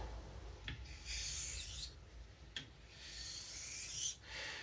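A straight razor is honed on a Naniwa Pro 1000 whetstone in long, gentle rasping strokes, four swishes in alternating directions with short gaps between them, heard up close with no voices.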